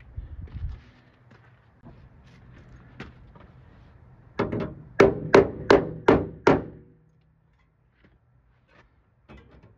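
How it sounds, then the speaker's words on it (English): Hammer tapping a tacked-in body panel on a 1964 Chevy Impala convertible, a few scattered light knocks followed by a quick run of about six sharp metallic raps, close and loud in a quiet shop. "grab a hammer"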